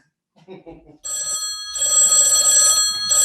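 A telephone rings loudly and steadily in a bright, repeating electronic trill that starts after a second and continues to the end, preceded by a brief soft murmur of voices.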